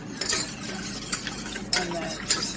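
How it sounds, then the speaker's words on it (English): Heavy whipping cream whisked in a bowl makes brisk rhythmic clinking and swishing strokes close up, with a couple of louder scrapes against the bowl. "And then just whisk all that up."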